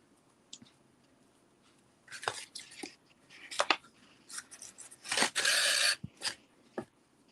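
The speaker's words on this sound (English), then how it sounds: "Got so many pairs of scissors here" Scissors snipping through ribbon while a bow is made for a sled decoration, a run of sharp close crisp cuts and clicks at irregular intervals, with quiet pauses between strokes.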